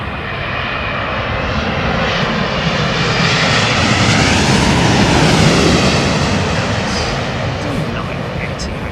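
An Etihad Boeing 787 thunders past at London Heathrow, a loud, dense jet engine roar building and peaking near the middle, with faint voices underneath.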